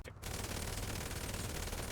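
Sustained automatic AK rifle fire in a video game, aimed at a Vulcar Fagaloa station wagon: a dense, loud, continuous burst of rapid shots lasting nearly two seconds after a brief pause, with no talking.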